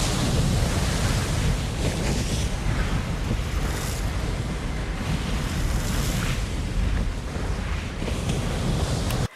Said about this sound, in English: Then we see landing craft splashing through rough water.